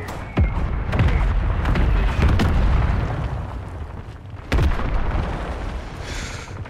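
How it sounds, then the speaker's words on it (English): Mortar strike explosions in a video game, several booming blasts landing one after another with sharp onsets and rumbling decay, loud and close over a continuous battlefield background. "Mortar strike."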